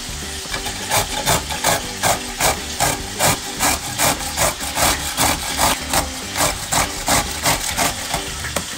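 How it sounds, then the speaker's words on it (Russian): Pickled cucumber is rubbed across a coarse kitchen grater in quick, regular rasping strokes, close and fairly loud, repeating about twice a second with no talk. "Вот сейчас с вами сразу натрем на терке,"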